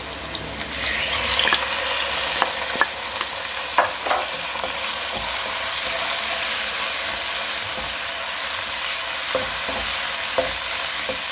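Chicken frying with browned onions: a steady, close sizzle runs throughout, with spoon scrapes and clicks breaking through every second or two, and no talking.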